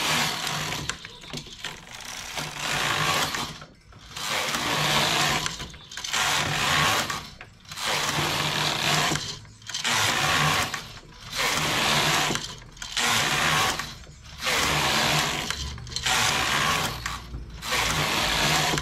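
A knitting machine carriage is pushed across the needle bed row after row, each pass a loud whirring, clattering burst lasting about two seconds, separated by short quiet gaps in a steady rhythm.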